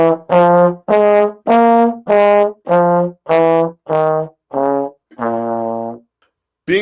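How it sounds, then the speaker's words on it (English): A single melodic instrument plays a rising and falling blues scale, about ten separate sustained notes, the last one held longer, clear and alone. "A blues scale is tonic,"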